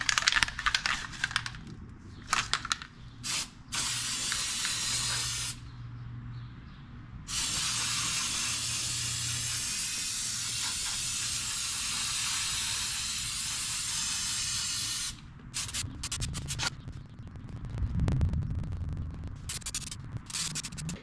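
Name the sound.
spraying sealer on truck wheel well fender liner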